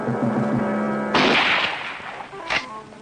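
A sudden loud gunshot bursts out in a 1970 western film ambush, followed moments later by a second sharp report, cutting over music and background sound already playing.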